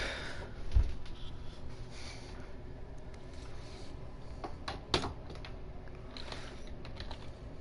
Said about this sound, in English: If you can hear me typing, you know I'm on my computer right now.